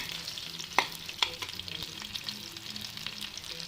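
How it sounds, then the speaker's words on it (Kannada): Garlic fries in oil in a pan for chutney, giving a steady soft sizzle with a few sharp clinks of stirring near the start, with no voices. "ಸ್ವಲ್ಪ ಫ್ರೈ ಆಗಲಿ ಇದು."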